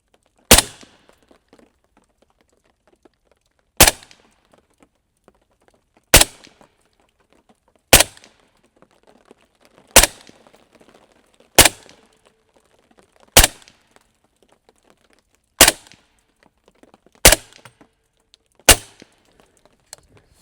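Ten loud, sharp shots from a Q Honey Badger rifle fired at a target on a range. They come evenly spaced roughly every two seconds, each crack standing alone with quiet gaps and faint clinks between them.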